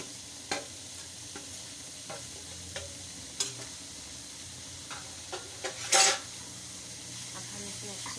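A spoon stirs 300 grams of khoa in a hot pan for shahi sweet bread, giving soft scraping strokes over a low sizzle with occasional clinks against the metal and one brighter rattle near the end.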